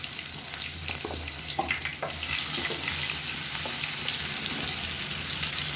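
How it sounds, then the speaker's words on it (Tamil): Marinated brinjal pieces sizzle steadily in hot oil with mustard seeds, fennel and curry leaves, a close, continuous frying hiss with occasional stirring clinks throughout, no voices. "இப்போ நம்ம மேரினேட் பண்ணி வச்சுருந்த கத்திரிக்காயை சேர்த்துக்கலாம்."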